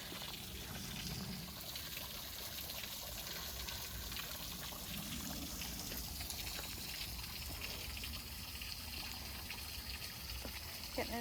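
Water trickles and splashes steadily in a small woodland creek on a mossy ridge trail, heard close and continuous with faint voices in the background.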